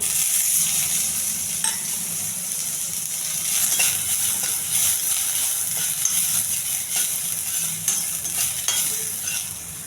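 Steady frying sizzle of a tempering with tomato in hot oil throughout, with occasional stirring scrapes and clinks over the continuous crackling hiss.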